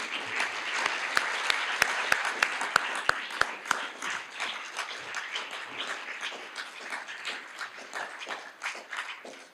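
Audience applause at a university business college alumni awards ceremony, a dense crowd of clapping with a few sharp nearby claps early on, slowly thinning toward the end.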